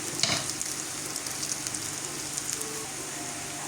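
Pancit noodles fry and get stirred in a pan, a continuous soft crackling sizzle with small scraping bursts near the start, fairly quiet and steady.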